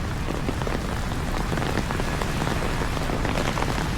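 Rain from Typhoon Carina falls steadily on surfaces in an outdoor park, a dense, even hiss of drops that stays loud and constant throughout with no voices.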